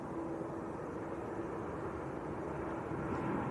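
An Air France airliner taxiing at Manchester Airport makes a faint, distant, steady engine drone with a thin whine running through it, and no voices.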